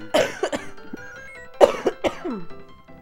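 A person coughs in two close bursts, each a cluster of rough, throaty hacks, loud and near with quiet gaps between, during a Smart Ball game playthrough.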